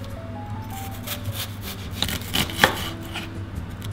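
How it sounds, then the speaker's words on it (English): An onion is chopped on a cutting board for veggie burgers, knife strokes thudding and rasping up close in an uneven rhythm, several sharper chops standing out over a low background hum. "next we're gonna chop the onion"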